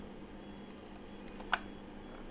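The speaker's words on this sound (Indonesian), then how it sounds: "sama dengan ketik HLOOKUP" Computer keyboard typing a formula into Excel, a few light scattered key clicks with one sharper tap, close and quiet over faint background hum.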